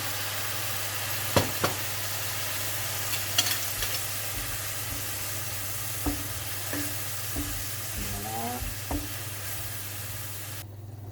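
Soy sauce, two tablespoons, sizzling in a frying pan while cooking ingredients for an Asian-style quiche; a steady low sizzle runs throughout, with occasional stirring clinks and scrapes of a utensil against the pan.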